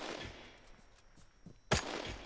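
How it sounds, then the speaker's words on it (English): MG42 machine gun fire in a World War II shooter game: one sharp, loud burst stands out near the end, while faint, distant pops and rumble sit in the background. "We've just been held up by a MG42 position"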